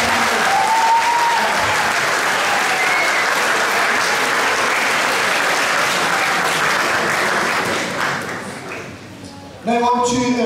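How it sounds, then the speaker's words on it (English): A school hall crowd at Falkirk High School's junior prizegiving applauds in a full, steady wash that thins after about eight seconds. A voice picks up right after the clapping fades. "a big round of applause for all of us."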